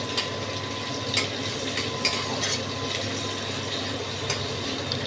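Onions frying in a pan for a jackfruit and prawn curry, a steady close sizzle with soft stirring scrapes and occasional clicks of a spatula against the pan.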